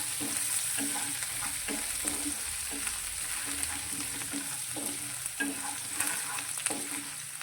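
Garlic and chillies sautéing in oil over a low flame make a steady, soft sizzle, with occasional faint stirring scrapes from a spoon in the pan, heard up close and alone without any voices.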